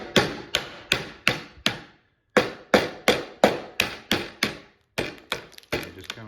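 Repeated hammer blows knocking out thin wooden slices to clear a one-inch groove cut for a sliding barn door, about a dozen sharp, close, evenly spaced strikes in two bursts with a short pause between.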